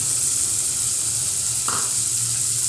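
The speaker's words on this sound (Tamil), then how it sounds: "தக்காளியை போட்டு லேசாக வதக்கியாச்சு." Chopped tomato, beetroot, carrot and potato frying in a pan for Tamil-style ragi soup, giving a steady bright sizzle throughout with one brief clink of a utensil partway.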